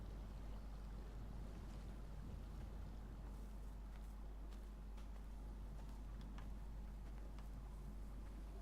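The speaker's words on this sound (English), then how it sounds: "Nice wind." Steady wind blowing across a bleak island landscape in the game Dear Esther, a constant breathy rush with faint gusts and no other distinct sounds.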